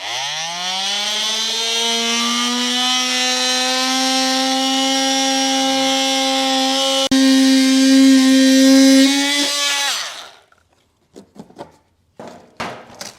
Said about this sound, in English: I'm using an oscillating tool that works really well.